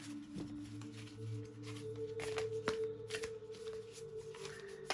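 Oversized playing cards being shuffled by hand, a run of riffling, flapping card sounds with a few sharper snaps, fairly close and quiet with no talk.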